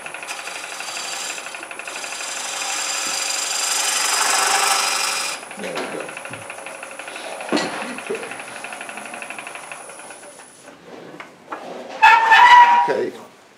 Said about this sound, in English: Address it with the scraper one more time.